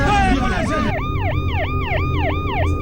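Ambulance siren at the scene of a terrorist attack on Bacha Khan University in Peshawar, Pakistan: a loud, fast, repeating wail that takes over after a brief jumble of mixed noise at the start.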